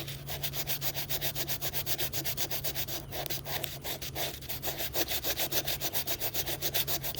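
Rapid, steady back-and-forth hand sanding strokes rubbing paint off a faux camera, close and continuous with an even rhythm and a low hum underneath.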